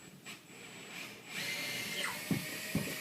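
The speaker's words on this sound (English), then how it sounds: "we're then going to drill into it. A little cordless drill here." A small cordless drill drilling into drywall whirs steadily for a few seconds, a close, continuous mechanical hum with a couple of brief knocks near the end.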